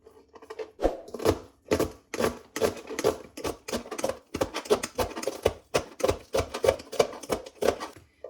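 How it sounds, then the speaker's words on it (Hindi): Steady, quick knife chops cutting onion on a board in a home kitchen, a long run of crisp, close taps at an even rhythm with no talk. "पहले तो प्याज काट लेंगे हम"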